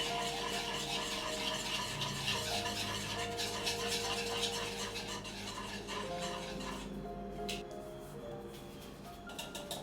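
Red chili powder, turmeric, coriander powder and salt are stirred into a marinade in a bowl, giving a soft, continuous scraping and rubbing of a spoon, faint and steady with no talk.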